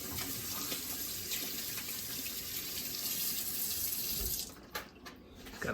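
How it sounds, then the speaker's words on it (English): A kitchen tap runs steadily into a sink while hands are washed before seasoning BBQ ribs, a loud, even rush of water that cuts off near the end, leaving a few drips and small knocks. "Gotta wash your hands before"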